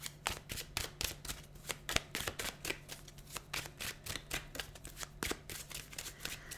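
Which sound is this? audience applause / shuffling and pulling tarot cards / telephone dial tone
shuffling and pulling tarot cards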